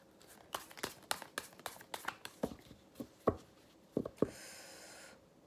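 Tarot cards are shuffled by hand: a run of quick, soft papery taps and flicks in an uneven rhythm, close and fairly quiet, ending in a brief rustling riffle.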